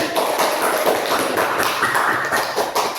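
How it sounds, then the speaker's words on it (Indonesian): A classroom gives applause after a group presentation: many hands clap in a dense, close patter that holds steady for a few seconds. "Ayo berikan aplaus dulu."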